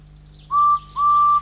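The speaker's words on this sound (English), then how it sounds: "Whistled Edward, get in quickly, please." A cartoon steam engine blows its whistle in two clear, loud, steady blasts, the second longer than the first, over a low background hum.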